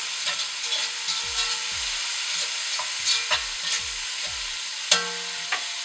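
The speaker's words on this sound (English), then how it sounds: "Vegetables are in, and give that a couple minutes just to brown up." Vegetables browning in a pan for braised beef, with a steady soft sizzle and hiss under repeated stirring scrapes and a few sharp clinks of a utensil against the pan.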